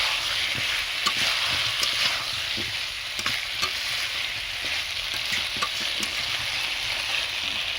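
Chicken liver and gizzard stir-frying in a spicy pan, a steady close sizzle broken by scattered clicks and scrapes of a spoon stirring, with no talk.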